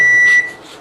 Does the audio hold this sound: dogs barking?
no